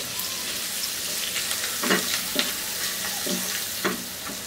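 Chicken pieces fry with chopped garlic in a pan, a soft steady sizzle with a few spatula scrapes and stirs in the middle.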